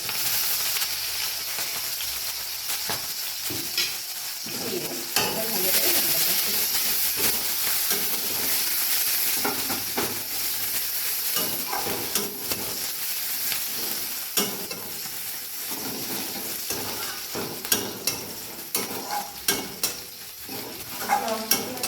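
Chillies and onion frying in hot oil with popping mustard seeds give a loud, constant sizzle and hiss, joined by repeated stirring scrapes and clinks of a spatula against the pan.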